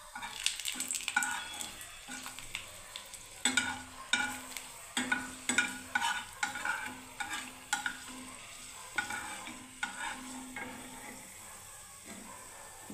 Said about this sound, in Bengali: এবারে বন্ধুরা দেখুন দুটো শুকনো লঙ্কাও ভেজে নিচ্ছি।